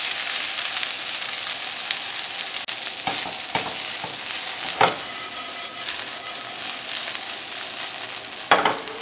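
Banana blossoms stir-cooked in a hot pan, a steady frying sizzle with scattered sharp clicks and scrapes from stirring, close and fairly loud, with no one speaking.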